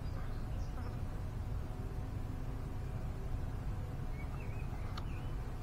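Horseflies buzz continuously close by, a steady droning whine that holds throughout, with a few brief louder passes over a low outdoor rumble.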